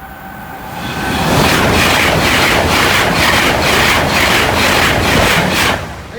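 A Class 37 locomotive and a Class 365 train pass Carlton level crossing, a loud close rolling rumble with rhythmic clatter of wheels over rail joints that rises, holds for several seconds, then drops away.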